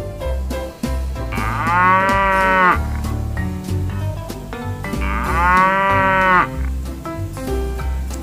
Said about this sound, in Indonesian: Ini ada kerbau.